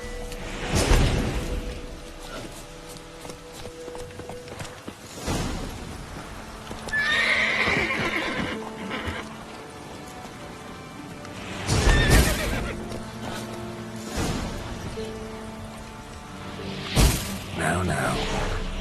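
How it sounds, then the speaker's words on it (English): A horse in the video game The Witcher 3 neighs and whinnies several times between clip-clopping hooves, with occasional whooshes and faint speech in the background. "Giddy up. There. Calm down, Roach."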